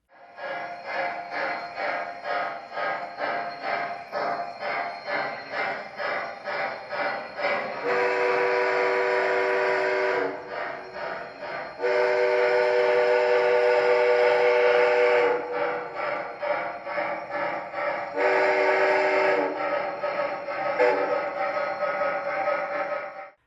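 Two large O-gauge triplex model steam locomotives run together, giving a continuous rolling, clattering rumble with repeated loud sustained whistle blasts near the mic.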